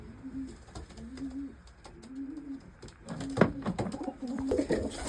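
Pigeons coo in a breeding loft where widowed cocks are rearing young birds, repeated rolling coos at a steady rhythm, with rustling and a few sharper bird sounds building toward the end.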